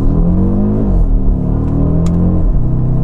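A 2.5 TFSI five-cylinder engine in an Audi RS Q3 quattro revs hard and holds near the limiter, a loud, dense, continuous growl whose pitch climbs, dips and climbs again.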